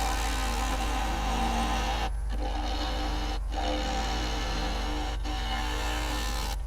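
A lathe tool cutting across the bottom of a spinning driftwood burl to flatten it, a steady loud grinding, rasping hum with a few brief drops where the tool lifts off the wood.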